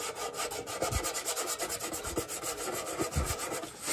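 A metal tin being scratched all over in every direction to distress its surface, making repeated rough rasping strokes with soft low thumps, close and steady with no talking.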